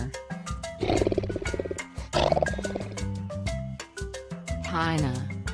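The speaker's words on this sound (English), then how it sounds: "tiger" A tiger gives two long, loud roars a little apart, then a growling third toward the end, all over steady background music.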